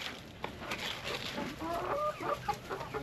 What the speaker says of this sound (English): These are some of the bantams that are fully grown, ready for sale.